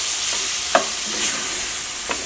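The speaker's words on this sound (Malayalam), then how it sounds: "നാളെ വൻപയറും കൂടിയിട്ട് നമുക്ക് ഇതിലേക്ക് നന്നായിട്ട് മിക്സ് ചെയ്യാം" A spoon stirs cooked cowpeas into pasta in a pan over a soft, steady sizzle, with a few distinct scraping strokes spaced across the moment. There is no voice.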